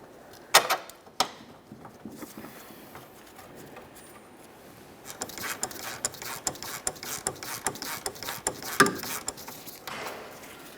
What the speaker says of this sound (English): Let's install that mounting bolt if we can.